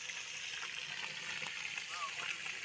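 Fish frying in a pan outdoors: a continuous bright sizzle and spatter at moderate distance, fairly quiet and steady throughout.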